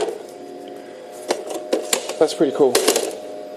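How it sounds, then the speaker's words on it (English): Printer in an Ericsson luggable microcomputer clattering through a short burst of mechanical print strikes and ticks after a quiet hum, with a brief spoken comment over it. "It's got a real printer in it."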